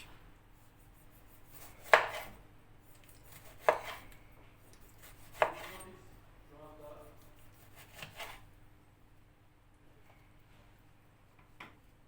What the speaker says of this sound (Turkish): bir domates daha doğrayayım. Dört tane olsun. Dört tane domatesi dilimledim.